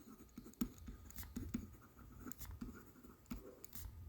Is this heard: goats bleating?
no